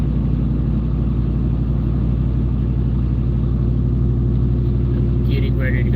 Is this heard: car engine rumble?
yes